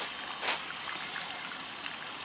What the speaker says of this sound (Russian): Вот он такой источник, текет водопад здесь.